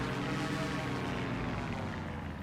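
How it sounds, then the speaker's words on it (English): A small buggy vehicle's engine in Microsoft Flight Simulator 2020 gives a steady, nasal, buzzing drone, close and continuous, with no talk. "Very weird little nasal sound."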